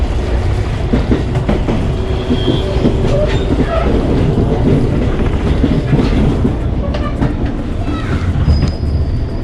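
A train at Bogor station in Indonesia, a loud, steady rumble of railway carriages with wheel clatter and faint squeals, while voices talk faintly underneath.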